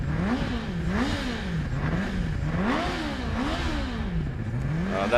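A Formula SAE race car powered by a Honda CBR 600 engine revs repeatedly, its pitch sweeping up and down in a steady wavering cycle, loud and close throughout.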